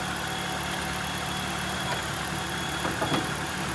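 A 1300cc engine in a 2001 Nissan Sunny car idles steadily, a low even hum close by, with a few faint clicks and knocks near the end.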